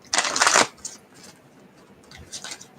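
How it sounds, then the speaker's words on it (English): A new deck of tarot cards being shuffled by hand, two short crisp bursts of riffling with a quieter pause between, close and dry. "Cards don't want to shuffle."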